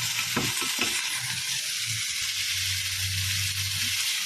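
Garlic frying in a pan, a steady broadband sizzle that stays loud throughout, with a few stirring scrapes near the start.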